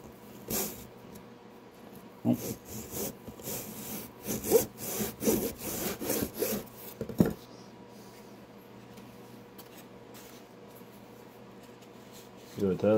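Balsa wood being sanded by hand to take off excess material, heard as bursts of short scratchy rubbing strokes, moderately loud and close, with quieter gaps between them.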